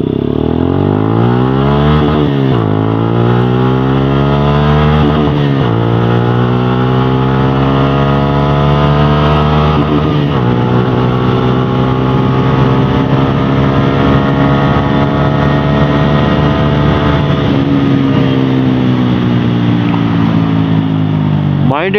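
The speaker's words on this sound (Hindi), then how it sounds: "but exhaust note is just so good" Suzuki Gixxer SF 155 motorcycle with an Akrapovic exhaust accelerating hard through several gear changes, each pull rising in pitch before dropping at the shift, loud and close with a rider talking over it.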